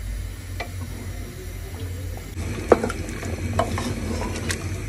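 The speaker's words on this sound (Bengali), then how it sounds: "আমরা মাংসটা চুলায় বসাই দিছি। 5 মিনিট আমরা এভাবেই মাংসটা কষাবো" Mutton sautéed on high heat in a pot on the stove, a steady low sizzle with scraping stirs and an occasional metallic clank, close and continuous with no talk.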